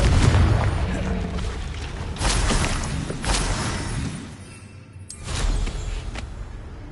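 Repeated Confringo blasting-curse explosions from Hogwarts Legacy, loud booming bursts near 0, 2.2, 3.3 and 5.1 seconds over a continuous rumbling battle din.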